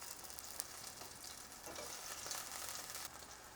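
Onions sauté in oil in a pan for a beef bourguignon stew, making a soft, steady sizzle heard alone at low volume, with a few faint stirring clicks.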